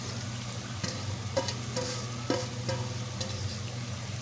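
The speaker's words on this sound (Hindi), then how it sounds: "अब मैं ये टिंडियों के अंदर से जो हमने गूदा निकाला था वो वाला डाल दूँगी" Tinda pulp dropped into masala already sizzling in a pan with cooked chicken gives a steady close frying crackle with a few stirring scrapes and soft knocks.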